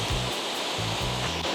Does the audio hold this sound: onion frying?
no